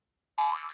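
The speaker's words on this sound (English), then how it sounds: "Sounds more like a boing." ZTE Majesty notification tone named Spring: a single sudden springy boing that wobbles and fades over half a second, loud and isolated.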